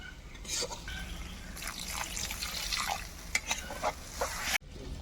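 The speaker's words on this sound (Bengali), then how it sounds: "এবার একটু জল দেব" Water poured into spices cooking in a pan for a tangra fish curry gives a soft, continuous bubbling, trickling sizzle with light stirring and a few drips, ending in a sharp clack.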